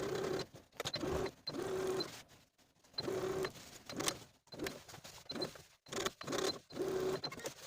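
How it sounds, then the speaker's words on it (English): A sewing machine topstitches a pant seam allowance in short, close bursts of rapid stitching, stopping and starting repeatedly with brief pauses between runs. "we're going to top stitch the seam allowance down, edge stitching very close to the original curved seam line."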